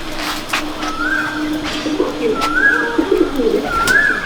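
Andhra pigeons in a loft at Shyamnagar give several rising, swooping coos at a slow pace over a low background hum, close by and moderately loud.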